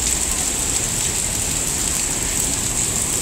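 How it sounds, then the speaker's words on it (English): Steady rain falls on a city street, a dense, even hiss that stays constant throughout with no speech over it. "and it's raining."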